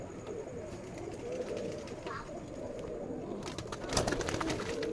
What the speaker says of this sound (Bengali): এই যে কবুতর দুইটা